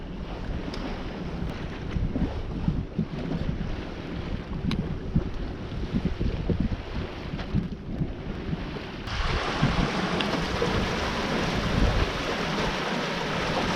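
A sailboat under way in rough seas on a long Caribbean passage, with steady wind buffeting the microphone and broad wash of waves and water rushing past the hull, growing louder and brighter partway through.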